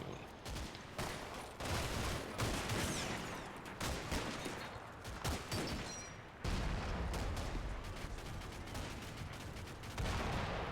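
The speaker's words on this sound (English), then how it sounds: "The artillery barrage that is falling, 2nd Platoon is able to ingress with no problems." Artillery barrage in a World War II wargame set in muddy terrain, a continuous dense roar of booming impacts and crackling gunfire, loud and sustained throughout with no talk.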